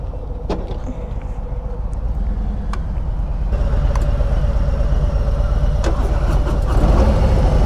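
A 2021 Harley-Davidson Road Glide engine runs steadily nearby with a low, rumbling throb. It grows somewhat louder partway through, and a few sharp clicks and knocks are mixed in.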